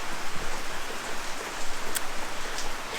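Rain falling outside in a garden, a steady close patter of drops on surfaces with occasional louder splashes, filling the space without any voices.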